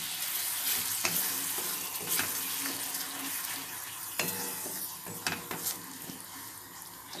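Yogurt is stirred into cooked tomatoes in a pan, with a soft sizzle running underneath. Faint scraping and occasional clinks of a spoon against the pan come and go.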